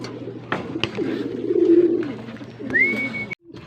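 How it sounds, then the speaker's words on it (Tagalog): A racing pigeon coos nearby in low, soft repeated notes, with a few clicks and a brief rising whistle-like sound near the end. "So ito na yung ibon natin."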